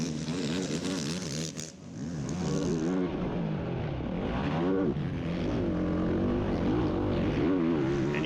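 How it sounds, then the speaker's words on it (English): A racing ATV at the Ironman Raceway motocross nationals drones loudly and steadily at low RPM in a tall gear across an off-camber section, the engine note holding even with a brief dip in the middle. "And you hear the real low RPM, tall gear that Ford ran on that off-camber"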